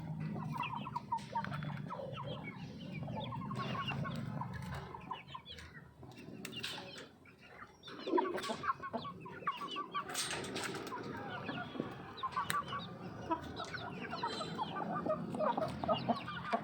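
Hens cluck and squawk in a coop, with overlapping agitated calls and bursts of activity, fairly close but quiet overall.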